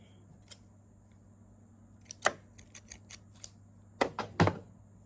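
Scissors snip off thread while a shirred tube top is sewn; a faint tick, then a sharp cut, a few light clicks and a quick cluster of close snips over a low steady hum.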